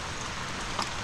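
Steady rain falls outdoors in a continuous, fairly loud hiss on surfaces, with a brief brighter spatter near the end and no voices heard.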